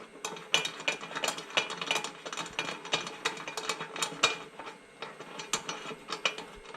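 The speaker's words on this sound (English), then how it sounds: "So we're going to just give them a little bit of a twist on there, don't torque them too much." A hand ratchet tightening the oil drain bolts on a 2011-or-later Yamaha Apex snowmobile, giving a steady run of close, crisp clicking bursts with no talking.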